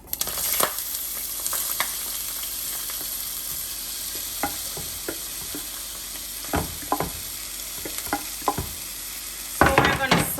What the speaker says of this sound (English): I'm gonna throw the seasoning in the pot.